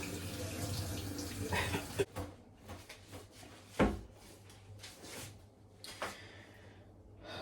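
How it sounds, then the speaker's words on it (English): Hands washed with soap under a running tap at a kitchen sink, water splashing and rushing with brief knocks and scrubbing, faint and close, without talk. "So I'll wash my hands very well with soap."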